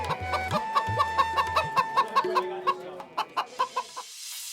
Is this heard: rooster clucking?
yes